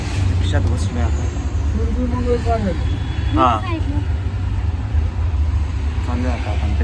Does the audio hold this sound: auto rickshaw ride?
yes